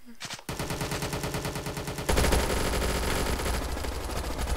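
Automatic gunfire in the VRChat video game, a rapid continuous burst of shots that grows louder and denser after about two seconds, following a brief voice at the start.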